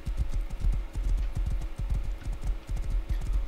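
Horse hooves clip-clopping in Minecraft 1.17.1, a steady run of close, dull low thuds that repeats throughout without any speech.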